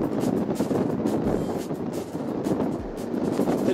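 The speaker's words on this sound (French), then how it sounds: "Tellement de vent que ça déplace pareil." Strong wind buffeting an outdoor microphone on a bridge in New York, a loud, continuous rumbling roar with gusty surges and no speech.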